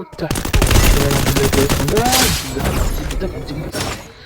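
Rapid automatic gunfire in a shooting video game, loud dense bursts that run almost continuously for a few seconds with brief gaps.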